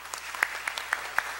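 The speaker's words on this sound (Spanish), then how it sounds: "Recibamos al doctor Fernando Vidal Ramírez con un fuerte aplauso" Sparse, scattered handclaps from a small audience at an international arbitration congress, welcoming a speaker; light, spaced claps over a quiet room, fairly faint and without talk.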